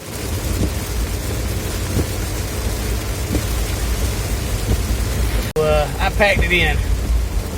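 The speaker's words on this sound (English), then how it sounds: "decided to start raining on us" Steady rain hisses throughout, a constant wash of noise, and someone speaks briefly near the end.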